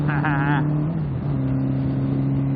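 Car engine droning at about 70 mph in sixth gear on a freeway in cold weather, a steady low hum with road noise throughout and a brief voice at the start.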